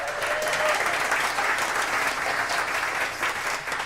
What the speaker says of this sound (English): clap yourself up, man.